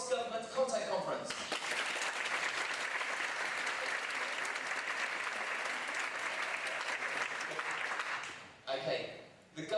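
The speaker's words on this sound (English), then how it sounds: "can I get a round of applause for the Cross-Government Content Conference?" Conference audience applauds in response to a call to vote for a name, steady loud clapping from a full room sustained for about seven seconds, with a speaker's voice briefly audible before and after.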